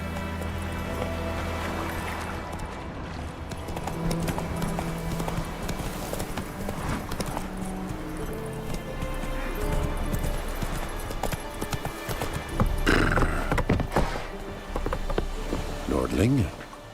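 Hooves of Roach, a horse in The Witcher 3 video game, clip-clop in a steady gait beneath game music and ambience while characters speak over it.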